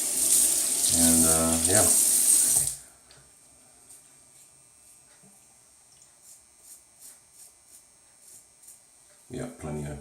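Water runs hissing from a tap for a few seconds alongside a man's brief speech, then cuts off, leaving quiet with faint taps and clicks.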